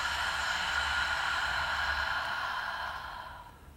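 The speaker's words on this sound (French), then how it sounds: "Expire par la bouche." Long, steady breath out through the mouth during a yoga flow, a soft breathy rush close to the microphone that fades away at the end.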